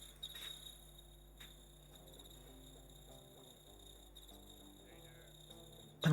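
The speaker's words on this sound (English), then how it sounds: "those crickets are so loud" Crickets chirp steadily in a night scene of the video game Midwest 90: Rapid City, a loud layered insect trill with a few short clicks and no talking.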